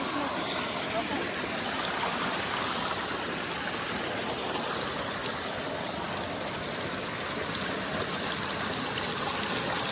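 Mountain stream water rushes steadily and close on a hiking trail at Mitōsan in Okutama, with shoe soles being rinsed in the flow; the broadband splashing fills the whole stretch evenly, with faint voices underneath.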